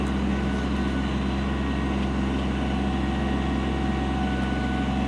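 A 2020 Kubota B2401 24 HP diesel compact tractor idles steadily, its low, constant hum sounding up close while the BH70 backhoe swivels side to side.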